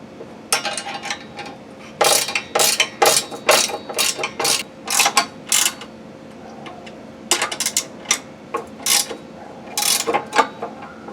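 A ratchet wrench tightens bolts on a Ferris FW 15 mowing deck during a mulch kit install, with quick bursts of sharp metallic clicking repeated in clusters and short pauses between them, close and loud.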